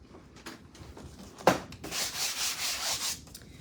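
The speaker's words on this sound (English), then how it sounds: "I'm going to sand it just a little bit where my transfer is going to go." A Dollar Tree sanding block rubs a surface by hand to prepare it for a transfer: a soft, close scrape near the start, then a steady run of sanding strokes with a gentle back-and-forth rhythm, heard alone.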